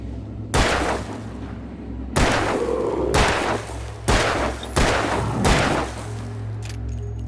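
Alan Wake (2010) gunfire: four heavy, booming shots spaced roughly a second apart, each loud and sharp with a rumbling tail, over a steady low ambient hum.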